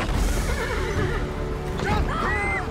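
A horse whinnies loudly in a trailer for the film News of the World, its rising and falling neigh standing out near the end over a dense, full background of score and effects.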